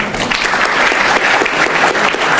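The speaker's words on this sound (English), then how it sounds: "You are clapping for your parents" A dinner audience gives sustained, dense applause during a speech by Anwar Ibrahim at a diaspora gathering, loud and continuous with a faint murmur of crowd underneath.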